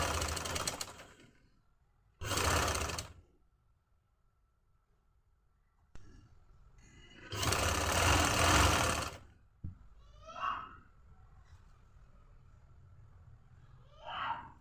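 A sewing machine stitches a trouser seam in bursts: a short run, a second brief run, then a longer steady whir, separated by quiet pauses with small clicks and handling sounds.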